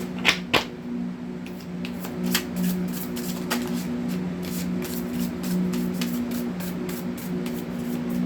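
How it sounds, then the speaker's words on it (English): Quick riffling of a tarot card deck, a run of crisp snaps and fluttering clicks, close by, with a steady hum underneath and no talking. "Two shuffles for Aries."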